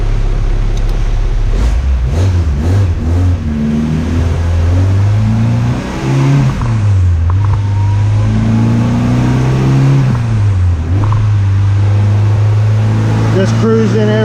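A built, turbocharged Honda Civic EG with a GSR engine revs loudly on a dyno, its pitch rising and falling in a steady pull with turbo whine, while voices talk over it.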